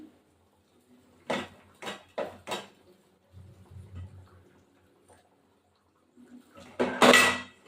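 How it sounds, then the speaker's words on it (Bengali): Chicken curry cooking in a pan as potatoes go in: several sharp clattering knocks and clinks of utensil and pieces against metal in quick succession, a short quiet stretch, then a louder burst of clatter near the end. "আর এই আলুগুলো দিয়ে দেবো আমি।"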